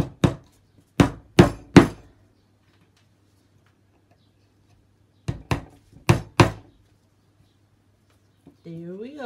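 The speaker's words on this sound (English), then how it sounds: "I really do have to hammer it in." Sharp hammer taps drive push pins into wood in two quick bursts of four, separated by a pause, with a voice speaking briefly at the end.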